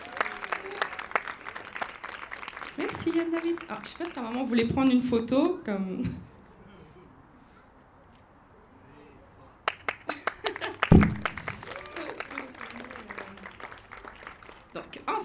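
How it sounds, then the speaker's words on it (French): An audience claps for a young performer after her song at a community club event. The applause comes in bursts, fades during a quiet stretch midway, then returns, with someone speaking over much of it. "on a Yann David, qu'on applaudit bien fort avec sa chanson"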